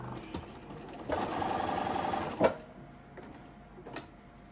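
A sewing machine fitted with a quarter inch foot stitches a beginner quilt, a short steady whirring run of about a second and a half between quieter pauses and a few sharp clicks.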